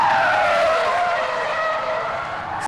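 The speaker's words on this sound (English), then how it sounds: "Here you see cars swerving to avoid it." Loud tires screech and skid as cars swerve in Mission Hills, California, a sustained high squeal that fades slightly over a few seconds, with engine noise beneath.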